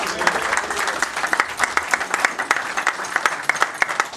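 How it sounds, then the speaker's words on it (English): A gathering at Edmondstown Golf Club gives a round of applause, many hands clapping in a steady, fairly loud burst that continues evenly throughout. "he really deserves a round of applause"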